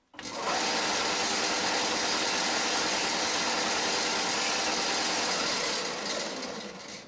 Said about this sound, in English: Other than that tinny rattling noise, which I'll see if I can fix.